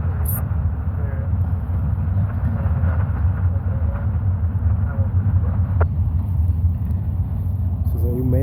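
CSX freight locomotives 935 and 325 lead an eastbound intermodal train past at Hamilton, Ohio, a loud continuous diesel rumble and rolling rail noise throughout, with faint squeals.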